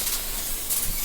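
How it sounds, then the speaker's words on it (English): A brief, steady hiss of an aerosol cooking spray, close and even, lasting about a second. "I'm gonna use a non-stick spray to spray all over"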